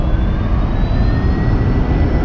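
Fighter jet engine in the X-Plane 11 flight simulator: a steady, loud jet roar with a rising whine, continuous and alone without talk.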